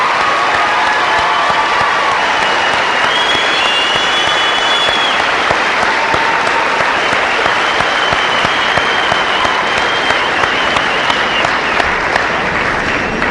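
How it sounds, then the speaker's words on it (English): A high school graduation crowd for the class of 2013 applauds continuously with loud, dense clapping, while scattered cheers and whistles rise above the steady roar. "Give them a round of applause"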